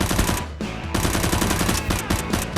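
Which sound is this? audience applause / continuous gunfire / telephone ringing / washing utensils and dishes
continuous gunfire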